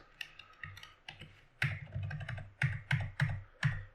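Code being typed on a computer keyboard: close, crisp key clicks in irregular bursts, sparse at first and then quicker and louder toward the end, with no talking.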